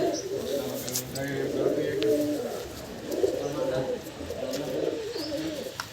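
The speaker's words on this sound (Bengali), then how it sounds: "এটা হচ্ছে উড়া পায়রা এই দুটো" Flying-breed pigeons at a pigeon sale coo repeatedly nearby in low, throaty warbling phrases that overlap and keep going, with quiet background noise underneath.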